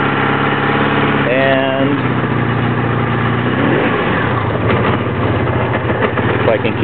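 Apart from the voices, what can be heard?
Honda Magna V65 motorcycle engine idling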